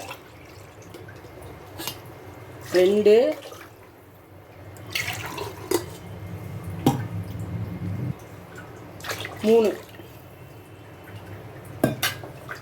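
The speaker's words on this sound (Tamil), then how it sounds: "ஒரு பங்கு தண்ணி சேர்த்துக்கிறேன்" Spice-tinted masala water from rinsing a mixer jar splashes in short bursts into a pressure cooker for beef biryani with raw rice, with soft drips between pours and someone speaking briefly.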